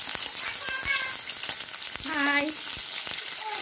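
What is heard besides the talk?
frying chicken gizzards in oil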